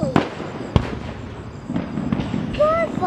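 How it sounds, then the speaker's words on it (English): Fourth of July fireworks bang in sharp, loud bursts, with a couple of big reports and crackling, while whistling rockets rise near the end and voices chatter underneath. "we just got back from an awesome day of 4th of July shooting off fireworks"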